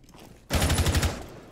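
Automatic gunfire in Rainbow Six Siege bursts in abruptly after a quiet half-second, a rapid, loud string of about eight shots close up, with no talk over it.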